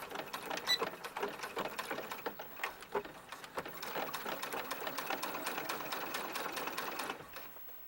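A sewing machine stitches a small doll dress and back tacks, a close, steady mechanical whir with rapid needle clatter that pauses and resumes briefly near the end.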